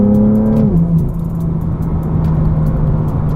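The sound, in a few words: BMW M2 F87 accelerating and shifting with DCT gearbox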